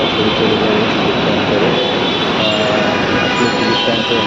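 A metro train at Mirpur metro station, a loud, continuous roaring rumble with a high whine, close by and steady from start to finish, with no speech over it.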